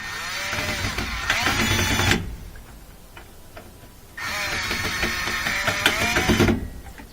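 A power driver tightens small screws on a Kenmore top-loader washer in two whirring bursts of about two seconds each, a close buzzing rattle separated by a quieter pause.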